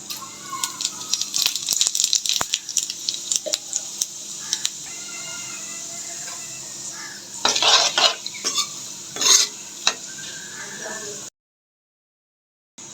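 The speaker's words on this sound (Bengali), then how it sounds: "এই তেলেই আমি দুটো তেজপাতা আর কিছু জিরা দিয়ে দিচ্ছি" Bay leaves and cumin seeds dropped into hot oil in a pan, crackling and sizzling close up with spoon scrapes and rattling utensil clatter in bursts, then cutting to silence near the end.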